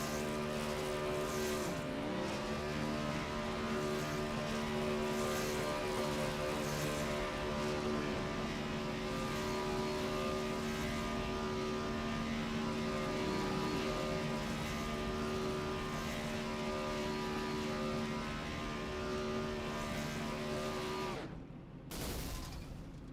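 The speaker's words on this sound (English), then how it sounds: "I think he's going for another burnout here." A race car engine revs continuously through a burnout at a drag racing league season finale, a loud, dense, steady roar with harmonic drone sustained for over twenty seconds before briefly dropping out near the end.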